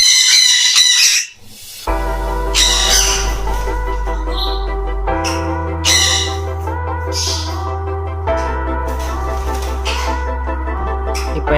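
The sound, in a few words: sun conure parrot screaming loudly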